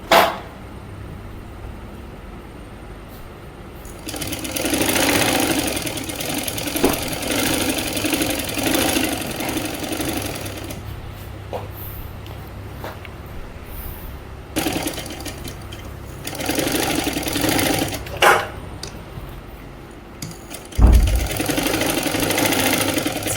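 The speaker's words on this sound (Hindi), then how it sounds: "ये इस तरह से लगभग आधा इंच दबा के सिलाई लगाते चले जाइए।" A sewing machine runs close by in several long stitching bursts along a Patiyala salwar seam, steady whirring with brief pauses and a few knocks between runs, no talk.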